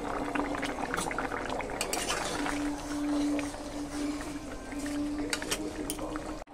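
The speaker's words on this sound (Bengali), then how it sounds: "এবার একটু ভালো করে ফুটিয়ে নিতে হবে" A pot of boal fish curry boils hard, with a constant bubbling burble and a low steady hum beneath it and light clinks now and then.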